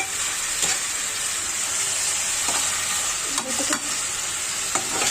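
Prawns with turmeric and dried chili powder sizzle steadily in a pan for a prawn curry, a close, continuous frying hiss broken by a few soft stirring scrapes.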